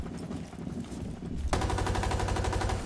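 A gun fires in the tactical shooter Rainbow Six Siege, a dense burst of rapid automatic shots that gets louder and sharper halfway through, with no voices over it.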